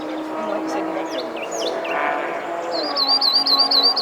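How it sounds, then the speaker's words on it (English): A yellow-rumped warbler song plays with clear, repeated high whistled notes toward the end, over a steady background hum and some low murmuring. "I just played yellow-rumped warbler because I don't remember the song"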